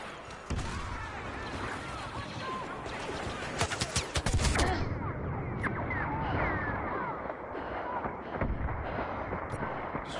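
Blaster gunfire fills a Star Wars Battlefront battle, with rapid repeated shots, bursts and distant blasts layered over each other, loud and continuous with a few sharper cracks.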